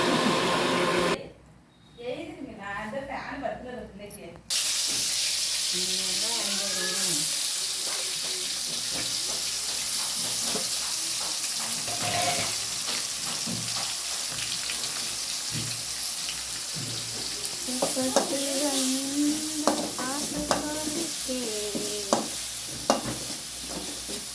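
Onions with ginger garlic paste sizzle steadily in a pan while a spoon stirs and scrapes, with intermittent clinks and scraping over a constant frying hiss, close and fairly quiet, no talking.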